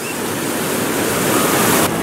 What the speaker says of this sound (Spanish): después de esta interrupción de la ola gigante